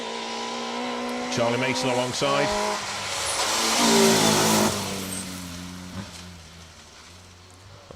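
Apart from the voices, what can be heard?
rally kit car passing on a stage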